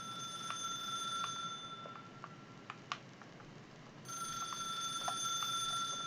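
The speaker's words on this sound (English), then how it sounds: "can somebody get that phone, please?" A telephone rings repeatedly inside The Suicide of Rachel Foster video game, evenly spaced electronic bell tones over a quiet ambient hum, with no one talking.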